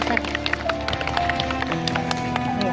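An audience at an Indonesian civil-servants' anniversary gathering claps for a religious speaker, giving a brief burst of dense, fairly close applause mixed with voices.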